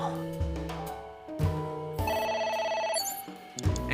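A telephone rings inside the video game AI: The Somnium Files, its trilling bell tones repeating in short bursts over background game music at moderate loudness, with no talking.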